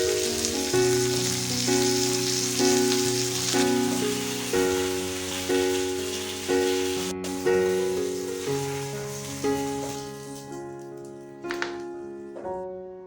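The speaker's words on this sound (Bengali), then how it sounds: "এখানে আমাদের মাছগুলো উল্টে পাল্টে ভাজা হয়ে গেছে" Katla fish pieces sizzle as they finish frying in a pan after being turned, a constant crackling hiss under prominent background music that thins out toward the end.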